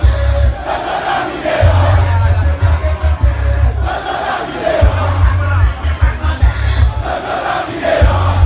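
Large crowd shouting and chanting at a street march for peace, a dense and loud roar of many voices that pulses continuously with no break.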